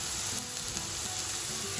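Tindora (ivy gourd) stir frying in oil, a steady close sizzle and crackle that runs alone and evenly through the whole short stretch.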